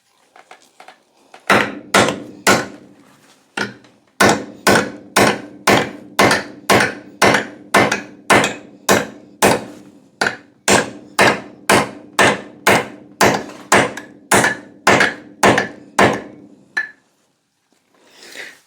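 A hammer strikes a cherry wood axe handle blank for a Collins bus axe, about thirty loud, close, evenly spaced blows, each a sharp thunk with a short decay, after a few lighter taps and a brief pause.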